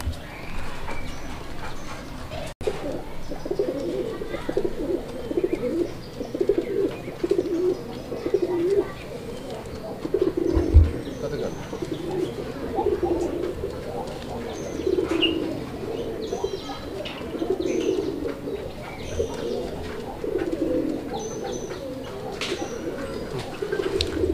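Pigeons of a fancy colored breed coo steadily at a pet bird sale, a repeated low throaty murmur running through the whole stretch with soft chirps above.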